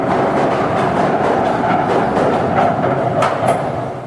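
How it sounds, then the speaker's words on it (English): A tram rumbles past close by in the old city centre, with rhythmic clacking of wheels over track joints and a brief squeal near the end. "That's a tram."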